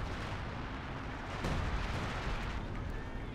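Artillery fire in the Company of Heroes 2 video game, a dense rumbling barrage of booms with one sharper blast near the middle, loud and continuous.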